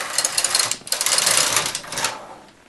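A knitting machine carriage is run across one row with the tension loosened to its widest setting, giving a close, continuous rattling whir with rhythmic clacks and a short break partway through.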